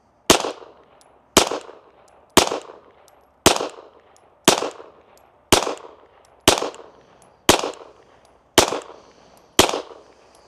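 Ten pistol shots from an Oak Plus red dot-equipped handgun fired at a target 25 yards away, sharp loud cracks evenly spaced about one second apart, each with a short fading echo.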